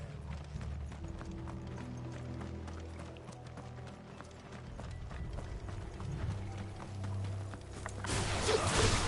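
Rapid, steady clip-clop of horse hooves in the video game Final Fantasy XVI runs continuously with a mechanical clatter and a low rumble beneath, growing louder near the end.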